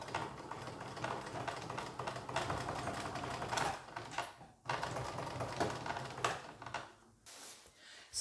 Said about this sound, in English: We can then stitch down and all the way round and up the other side